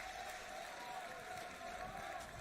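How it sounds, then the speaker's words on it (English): A large esports arena crowd at the Dota 2 International, a steady dense roar of cheering and applause heard from within the hall, with a faint voice underneath. "you hear this crowd. It is absolutely electrifying in here."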